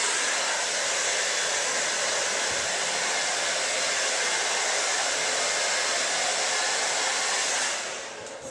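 A hair dryer blow-drying hair with a round brush, its steady, loud, airy whir running nonstop and then winding down and cutting off at the end.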